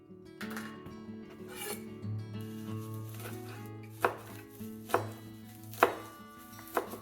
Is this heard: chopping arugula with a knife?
yes